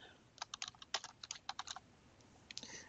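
Quick bursts of keystrokes on a computer keyboard as a note is typed, crisp and close, with uneven pauses between runs of taps and no voices.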